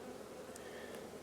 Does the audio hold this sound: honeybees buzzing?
yes